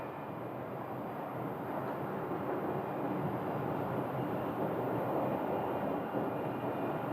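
A steady, broad jet-engine rumble from an aircraft taxiing across the runway at Phoenix Sky Harbor airport, holding at an even level throughout with no voices.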